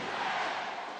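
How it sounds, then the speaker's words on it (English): A large arena crowd at a FIBA Asia Championship basketball game between Iran and the Philippines, roaring in a loud, sustained chant of many voices, with no single voice standing out. "The relenting cry of defense from the crowd."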